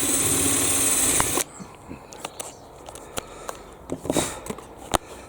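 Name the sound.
power drill drilling a hole in a fat ball feeder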